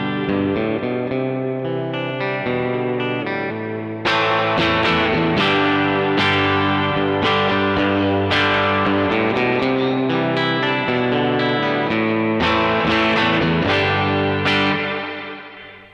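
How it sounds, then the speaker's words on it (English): Electric guitar played through a Lovepedal Reverb Deluxe spring reverb pedal, loud sustained chords and picked notes washed in lush, lingering reverb with shimmering tails, a harder strum partway through bringing a brighter, fuller swell. "Really cool spring reverb emulation."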